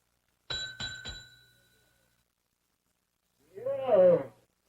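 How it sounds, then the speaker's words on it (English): A counter bell is struck three times in quick succession, bright metallic dings that ring out and decay, followed by a short spoken line. "Give that bell a whomp, Ellie."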